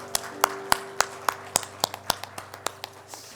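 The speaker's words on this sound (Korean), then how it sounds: "우리 하나님께 영광의 박수 한번 올려드릴까요?" Congregation in a Korean church service clapping in praise, a steady series of sharp, fairly loud hand claps at roughly even intervals over a low sustained organ or keyboard drone.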